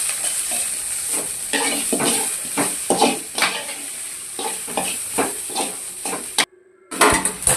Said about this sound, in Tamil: லைட்டாக எண்ணெய் விட்டு ஃப்ரை பண்ணிக்கலாம்